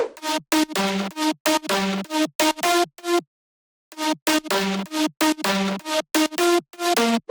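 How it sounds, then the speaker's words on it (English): A bright synth lead plays a slow melody in short, separated phrases with a brief pause midway; layered, slightly wavering tones, loud and upfront, no voices. "for the lead, we are going to use a haunting, atmospheric synth sound."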